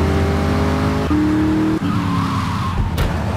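A sports car in GTA 3 drives with a steady engine tone that shifts pitch through gear changes, then tires squeal briefly, followed by a sharp short impact near the end.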